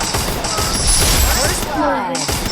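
Loud burst of gunfire in a shooting video game aiming for a one-tap headshot, a dense rapid crackle filling the whole short stretch with game effects layered over it.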